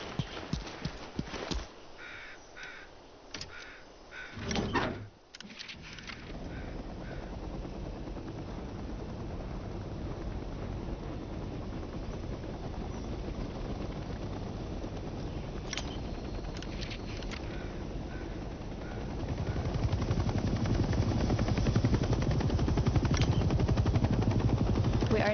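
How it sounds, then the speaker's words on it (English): A military helicopter's engine starts up in Hell Let Loose Vietnam with a steady whine and rising rotor rumble that grows louder and fuller, while distant gunfire pops over the early seconds. "Let's start by getting in the pilot seat and turning the engine on."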